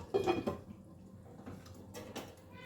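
A metal lid is set on a cooking pot of lau shaak with gathi kochu on a low gas flame, making a clear clatter at the start and then a few softer clinks and scrapes.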